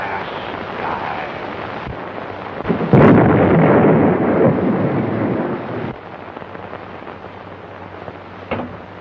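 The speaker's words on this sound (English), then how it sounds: "What was that explosion?" A heavy rumbling explosion bursts out of a steady noisy background, swelling loud for a few seconds before settling back into a dull roar, with a faint later thump.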